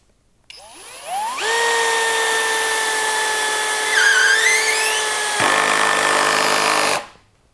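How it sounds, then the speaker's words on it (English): A Skil PWRCore 12 cordless hammer drill with a 1/2-inch ratcheting chuck whines up to a steady high-pitched spin driving a screw, holds, drops in pitch briefly as it bites, then winds down and stops. "hammer drill with a 1/2-inch ratcheting chuck"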